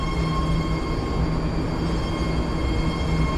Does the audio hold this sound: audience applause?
no